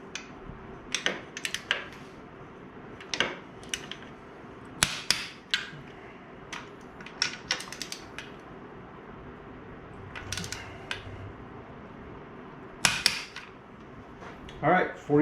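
Cylinder bolts being torqued on a 2021 Kawasaki KX450F dirt bike top end, with sharp metallic clicks and ratcheting taps arriving in irregular bursts, close and fairly loud over a quiet workshop background.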